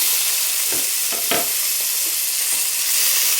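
Tomatoes tossed into a hot pan of frying aromatics, producing a loud, continuous sizzle with a few scraping stirs mixed in close by.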